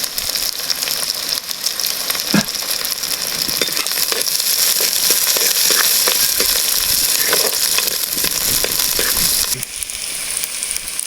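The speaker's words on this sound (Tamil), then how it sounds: "வெங்காயம் வந்து நல்லா பொன்னிறமாக செவக்கட்டும்" Small onions and a couple of dried red chillies frying in oil, a loud continuous crackling sizzle with scattered pops and spatters running throughout.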